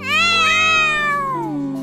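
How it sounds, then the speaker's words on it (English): A kitten gives one loud, close meow that is drawn out and slides downward in pitch, clear and alone with no talking. "Aw, just look at the little kitty."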